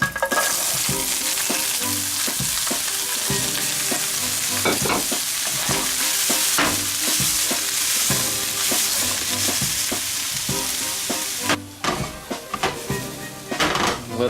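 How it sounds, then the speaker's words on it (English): Chopped vegetables sizzle loudly in grapeseed oil in a pan for a vegan, gluten-free quesadilla casserole, a dense steady hiss broken by stirring scrapes and utensil clinks, easing off near the end. "Let that simmer until it gets nice and translucent and aromatic."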